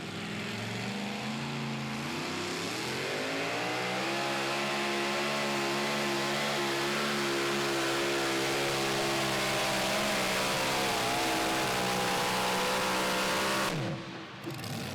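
A super modified two-wheel-drive pulling truck named Spike roars down a dirt pulling track in Franklin, Kentucky, its engine revving up and holding a loud, steady, rising howl for the full pull before cutting off near the end.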